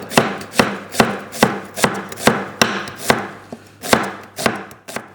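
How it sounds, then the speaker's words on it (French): A knife minces a shallot on a cutting board in about a dozen crisp, evenly spaced chops. The taps are close and clear, with no other sound. "J'émince une échalote."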